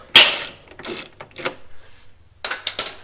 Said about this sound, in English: And we'll loosen this 10mm bolt here that we tightened a long time ago.